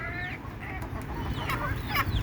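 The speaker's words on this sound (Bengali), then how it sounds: "এখানে আমি দেশি মুরগি পালন করতেছি" Deshi chickens on a building rooftop, several nearby hens clucking in short, overlapping calls over a faint background hum, with no voices.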